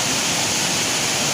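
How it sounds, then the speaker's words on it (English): Natural waterfall heard from the top, a loud, steady broadband roar of rushing, crashing water filling the whole stretch with no pauses. "Here I am on the top of the waterfall"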